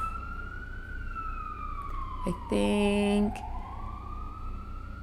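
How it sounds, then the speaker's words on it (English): Emergency vehicle siren wailing outside, a long rising and falling tone passing by with a brief loud horn blast in the middle, while a person speaks briefly. "Sorry, they have sirens going on right now."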